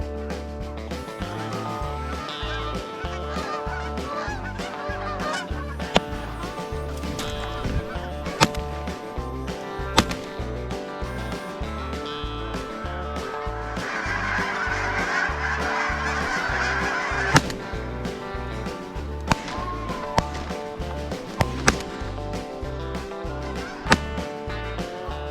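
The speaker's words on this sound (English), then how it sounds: "shooting a couple geese when they just fly over our heads" A flock of geese honking repeatedly overhead during a waterfowl hunt, loud and close, with sharp gunshot cracks and a rising burst of noise partway through.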